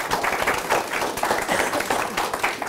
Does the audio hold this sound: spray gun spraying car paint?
no